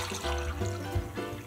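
Wine trickling from a bottle into a second glass, a short close pour with a soft liquid splash over a faint room hum.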